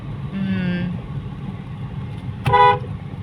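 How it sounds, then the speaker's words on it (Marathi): Car horns toot in heavy traffic on a narrow road near a Ganesh temple in Pali, one short mid-pitched honk early and a louder, brighter blast near the end over a steady rumble of engines. "भरपूर ट्रॅफिक आहे छोटा रस्ता आहे"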